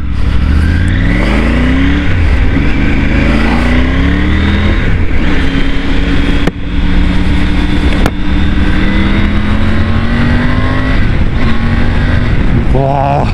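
Triumph Tiger 900 GT adventure motorcycle with an inline three-cylinder engine accelerating hard in first gear, loud and close, its engine note rising repeatedly through revs, heard on board.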